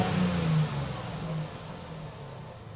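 A 2003 Chrysler Crossfire's 3.2-litre six-cylinder engine, running with a fault, revs up with a steady mid-pitched hum that peaks early and then eases back down, close and continuous with no talking.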